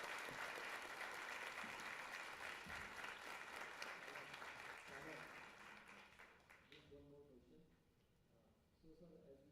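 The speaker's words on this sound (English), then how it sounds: "I would like the audience to give a huge round of applause to the panelists." Audience applause for panelists after an engineering panel discussion on high-rise buildings, loud and dense at first, then fading out, with a voice beginning to speak near the end.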